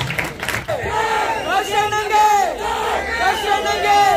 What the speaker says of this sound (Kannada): ಸಾಕು ಸಾಕು ಜೈಕಾರ, ಎಲೆಕ್ಷನ್ ಅಲ್ಲಿ ತೋರ್ಸೋಣ ಈ ಜೈಕಾರ